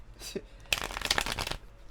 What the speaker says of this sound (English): Got my hoodoo deck. I'm going to shuffle these real quick.